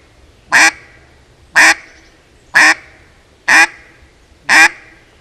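A duck call imitates a hen mallard, giving five loud, evenly spaced nasal quacks about a second apart, close up with nothing else around them.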